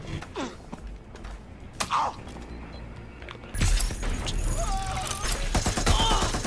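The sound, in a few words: gunfire in video game Watch Dogs: Legion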